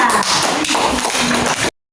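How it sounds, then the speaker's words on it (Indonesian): A classroom group claps for group 2's presentation, a short burst of quick, close, uneven claps lasting under two seconds and then cutting off. "tepuk tangan untuk kelompok 2"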